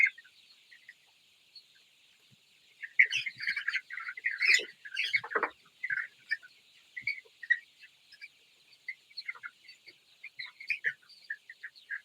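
Chicks on a poultry farm holding about 800 birds chirp in dense, high twittering bursts, starting sparse and becoming a busy, continuous chatter close by, with no talk.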